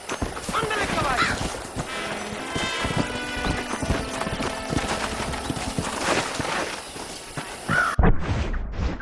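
Horse hooves clip-clopping at a rapid gallop in the video game Red Dead Redemption, a steady close drumming with a brief whinny, while a voice and game speech talk over it.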